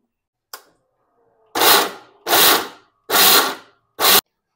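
A kitchen mixer grinder grinds tamarind chutney in four short pulsed bursts, each a second or less, loud and close, with a brief click before the first.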